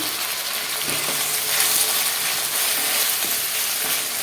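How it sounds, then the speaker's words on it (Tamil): A large tomato being sautéed in a clay pot over a wood fire for chicken fry, giving a dense, continuous hiss of frying with faint scraping and clicking underneath. "ஒரு பெரிய தக்காளி இதையும் போட்டு நல்லா வதக்கிடலாம்"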